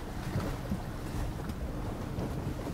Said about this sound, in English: I'm actually driving through a frickin' river right now